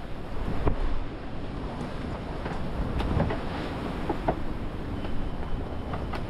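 Strong wind of about 30 knots roars steadily against the microphone aboard a boat at sea, over a broad rushing wash of sea noise, with occasional sharp knocks and gusts.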